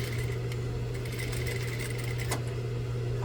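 A sewing machine stitches a reversible vest, running in one steady continuous mechanical hum with a strong low drone throughout, close and alone.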